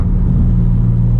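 A 2017 Ford Mustang engine cruises in fifth gear at about 2300 rpm, giving a loud, steady low drone and road rumble from inside the cabin, with no voices.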